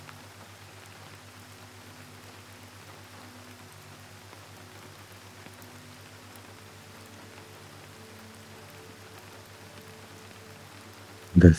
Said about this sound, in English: The sound of rain continues.